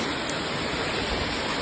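Rain falling outdoors at night during the rainy season, a steady, even hiss with no distinct drops or voices, fairly faint and unbroken for the whole short stretch.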